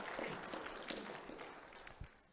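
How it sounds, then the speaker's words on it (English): An audience claps together after a talk on RISC-V debugging, a soft, diffuse spatter of applause that fades away toward the end. "give him a round of applause"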